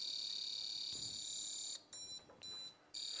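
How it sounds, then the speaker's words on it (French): A high electronic beep from a Prodatec beam alignment device, cutting through a steady high-pitched tone that briefly breaks up partway through, alone with no talking. "Un simple bip signifie que nous sommes sur le côté A"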